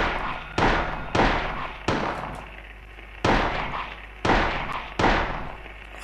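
Gunshots in the survival horror game Silent Hill 1: six loud, booming shots at uneven intervals, each with a rumbling decay, close and alone over a low steady hum.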